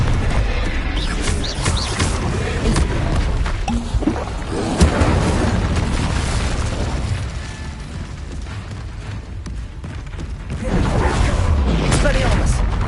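Spell blasts in a Harry Potter video game, with Confringo and Expelliarmus casts producing repeated booms and bursts over a dense, busy background of noise lasting throughout.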